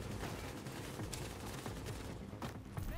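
Gunfire in the shooter game The Division: a dense, steady stretch of rapid shots and bursts, with a few sharper cracks standing out in the mix, loud and continuous throughout.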